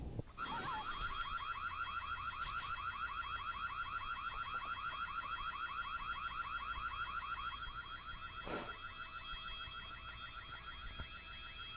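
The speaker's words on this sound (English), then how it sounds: "So we gotta shut this alarm off." An alarm in the school horror video game Whiteday: A Labyrinth Named School rings continuously with a steady, rapidly warbling electronic tone that stays loud throughout, with a couple of brief knocks in the background.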